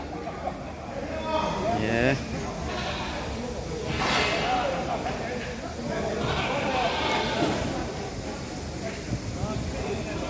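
Goats bleat repeatedly at a livestock cooperative goat auction in Hwasun, South Jeonnam, with several wavering calls rising over a steady crowd murmur and voices throughout.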